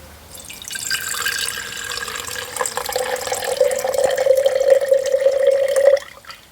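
Water poured from one glass jar into another during home gold recovery from scrap phones, a steady trickling stream that builds and grows louder over about six seconds, then stops abruptly.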